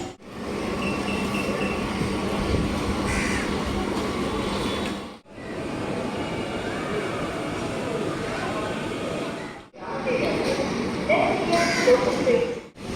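An electric local train in Chennai rumbles steadily along the tracks with a dense, rushing roar, broken by brief quiet gaps, and faint squeals mixed in.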